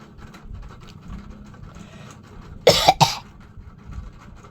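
A few sharp coughs burst out close by in a quick cluster, standing out against a quiet room with faint background noise.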